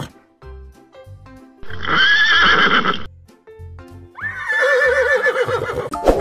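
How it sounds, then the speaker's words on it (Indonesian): A horse in the video game Jurassic World Evolution 2 neighs twice, loud whinnies separated by clip-clop hoof steps and game sounds. "dan juga seekor kuda"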